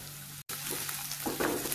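Garlic sizzling in hot oil in a pan, a steady close frying hiss that briefly cuts out and then resumes with slightly livelier crackle.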